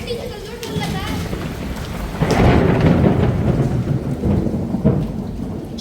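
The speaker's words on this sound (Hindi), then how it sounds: "भाई साहब बहुत मोटे मोटे ओले आ रहे हैं।" A thunderstorm drops heavy hail and rain, drumming loudly and densely on surfaces with a rolling thunder swell midway. Voices sound faintly beneath the downpour.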